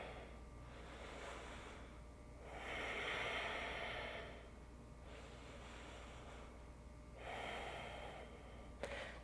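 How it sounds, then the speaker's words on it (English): Slow, deep breaths during a Pilates reformer lunge stretch, three soft airy swells of inhaling and exhaling spaced a few seconds apart, close and quiet with no talking. "Just take 3 deep breaths here."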